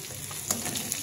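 Hilsa fish frying in hot oil, a close, steady crackling sizzle with small pops throughout, no voices.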